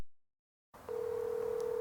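Steady telephone dial tone heard while calling a used-car dealer about selling a 2017 LF Sonata, beginning after a short silence and holding level and clear to the end.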